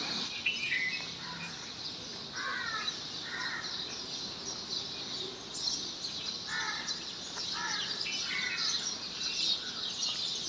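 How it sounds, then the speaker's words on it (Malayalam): Several birds chirp and call from a tree, bursts of tweeting repeating over a steady insect-like hiss, fairly faint and outdoors with no talk. "ഈ കിളികളെ സൗണ്ടാണ്"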